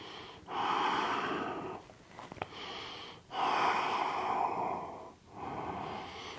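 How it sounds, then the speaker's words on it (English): Slow, deep breaths during a yoga practice, long audible inhales and exhales about two seconds each, close to the microphone, with a brief pause between them and no talking. "Couple deep full breaths here."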